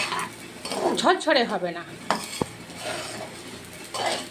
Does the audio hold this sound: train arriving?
no